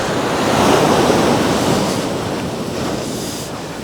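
Waves breaking on Thomas Beach in Bali roll in as a loud, continuous surf roar close by, swelling early and then easing slightly, with some wind rumble against the microphone.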